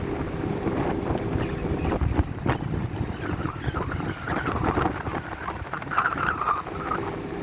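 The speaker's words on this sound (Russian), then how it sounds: "потому что очень сильный ветер" Strong wind blows at a beach by the sea in Turkey, a steady loud roar buffeting the microphone with gusts over the wash of waves, no voices.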